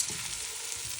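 Food sizzles and crackles steadily in a hot pan while a barley dish is being fried, a close, even hiss with tiny pops and no voices.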